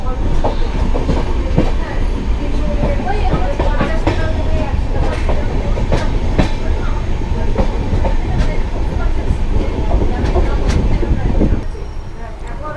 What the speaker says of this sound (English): here the train will stop for around 2 minutes